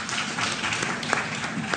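A studio audience claps together to vote, the applause sounding steady and fairly loud across the whole moment without a clear break.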